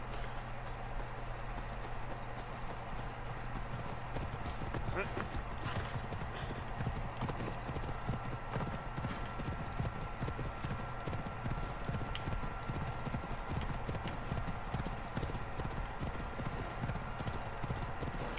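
A horse in the video game Assassin's Creed Odyssey trots along with a steady, continuous clip-clop of hooves, close and even throughout, with a brief whinny and some talk now and then.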